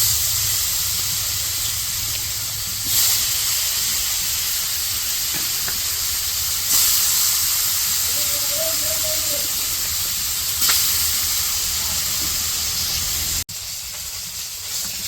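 Fish frying in a pan for a village-style home meal, a steady loud hiss and sizzle that holds for the whole stretch with a few brief surges, and no talking over it.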